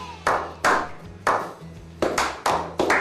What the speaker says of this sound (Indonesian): Tepuk tangan dulu buat Super Kids.